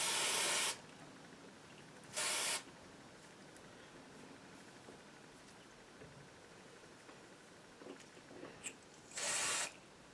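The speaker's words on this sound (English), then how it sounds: "let's spray a little bit of this Root Magic. It's a touch-up spray that gives you roots" Three short bursts of aerosol hair root touch-up spray hiss, each lasting under a second, separated by pauses with faint handling noise between them.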